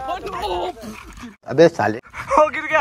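A street dog barks in short, sharp yips and whimpers close by, mixed in with someone talking loudly over it.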